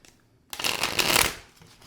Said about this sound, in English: I like to shuffle as soon as I'm done because that way, like breaking up the energy.